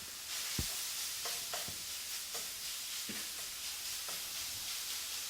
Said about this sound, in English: we got our hamburger beef in the skillet here. We're just going to brown this up a little bit